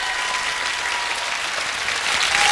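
Loud, sustained applause from a studio audience on a TV game show, Field of Miracles (Pole Chudes), greeting a super game winner, dense clapping that swells slightly toward the end with no talk over it.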